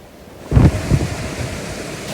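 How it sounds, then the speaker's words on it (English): Choppy Caribbean sea waves strike a sailboat as it beats against the current. A dull surge of water hits hard once, then wind and wash keep rushing on without a break. "you have to fight your way against currents and choppy waves"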